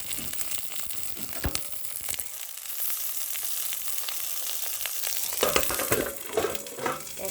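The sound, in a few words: prawn paturi frying on low flame with lid on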